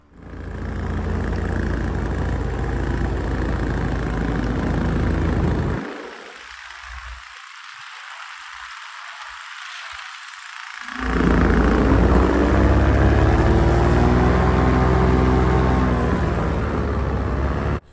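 A Moster 185 paramotor engine runs loud and steady, dropping out to near silence for several seconds before coming back strong with a rising, wavering drone.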